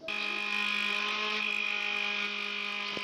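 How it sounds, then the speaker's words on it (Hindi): Electric juicer-blender motor running while grinding eggs for mayonnaise, a steady high whine with a constant pitched hum, close and unbroken for the whole stretch, no talking. "जूसर जो है हम ऑन कर लेंगे"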